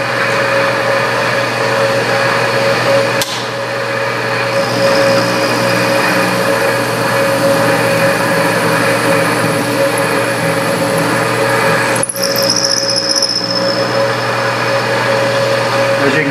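A metal lathe runs a knurling cut at 50 thousandths depth on a scissor knurl project, a loud, steady mechanical drone with a constant whine and a couple of brief clicks, close by.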